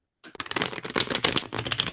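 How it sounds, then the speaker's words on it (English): A new deck of tarot cards is shuffled, giving a quick run of crisp riffling clicks and flutters that start abruptly after a brief silence and continue close up with no talk. "I need to do one more shuffle."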